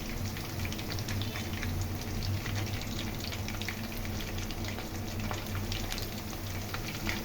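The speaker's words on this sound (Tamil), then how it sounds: "கருவேப்பிலை அதுவும் பொரிக்கிட்டோம்" Steady crackling sizzle of curry leaves frying in hot oil, continuous bubbling and spitting at moderate volume with no talking.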